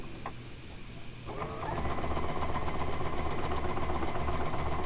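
A sewing machine stitches across an ornament quilt block, starting quietly and then running at a steady, fast, continuous hum with a rhythmic needle pulse and no voices.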